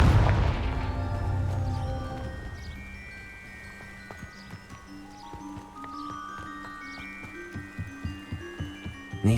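Confringo fire spell blasting rocks in Hogwarts Legacy: a loud explosive burst at the start, followed by a ringing tonal decay and scattered debris clatter that fades into quieter game ambience.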